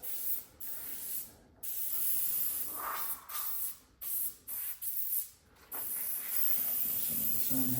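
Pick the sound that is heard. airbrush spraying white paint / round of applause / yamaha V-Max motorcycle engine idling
airbrush spraying white paint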